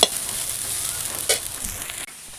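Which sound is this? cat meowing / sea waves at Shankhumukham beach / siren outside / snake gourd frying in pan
snake gourd frying in pan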